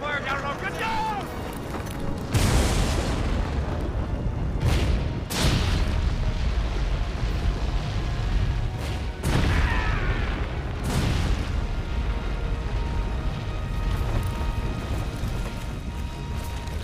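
Artillery fire and explosions in a 1999 action film, several heavy booming blasts rolling over a dense battle din, with shouting voices throughout.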